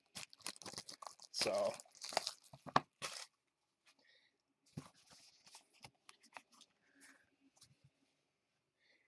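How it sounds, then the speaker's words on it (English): Trading-style scratch cards being scraped off by hand, bursts of dry rasping scratches, loud at first then sparser and fainter, with a brief spoken word near the start. "I'm going to scratch them off and put them in and see what they are"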